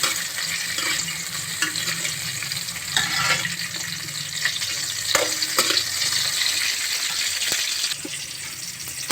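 Ripe red tomatoes frying in oil in a pan, a steady loud sizzle with occasional stirring scrapes and clicks, continuous and close, with no speech.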